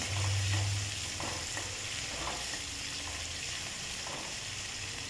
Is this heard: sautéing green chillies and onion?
yes